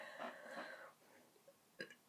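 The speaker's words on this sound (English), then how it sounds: "Obligatory burp." A single short, quiet burp from a person, standing alone near the end after a brief murmur.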